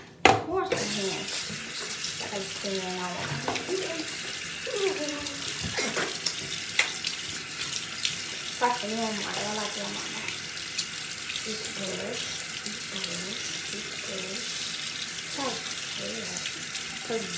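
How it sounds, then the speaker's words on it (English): Tap water runs into a bathroom sink while hands are washed, a steady close splashing hiss with brief louder splashes as the hands move under the stream, a voice murmuring now and then. "So first, wash my hands."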